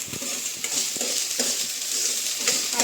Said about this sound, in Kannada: ಈ ಥರ ಫ್ರೈ ಆದಮೇಲೆ ಲೋ ಫ್ಲೇಮಲ್ಲಿ ಇಟ್ಕೊಂಡೆ ಫ್ರೈ ಮಾಡ್ಕೊಳ್ಳಿ